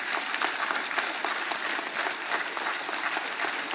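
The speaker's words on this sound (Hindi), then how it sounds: "मैं चाहूंगा कि आप सभी लोग जोरदार तालियों से इनका स्वागत करेंगे" Sustained audience applause welcoming the chief justice at a Jharkhand state-level legal services and empowerment camp, a steady dense clapping from a large crowd that holds at an even level throughout with no talk over it.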